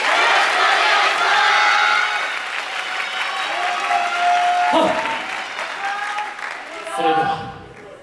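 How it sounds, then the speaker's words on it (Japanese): A crowd applauding and clapping along for a university YOSAKOI Soran dance team at a winter festival, loud sustained applause with cheering that thins out, while a voice speaks over it and a whoop rises near the end. "ご声援お手拍子よろしくお願いします"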